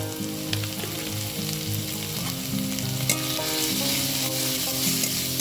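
Spice masala with salt, turmeric and a little sugar being stir-fried in a pan for chicken ghugni, giving a loud, dense, steady sizzle with stirring throughout, nearby and with no talking.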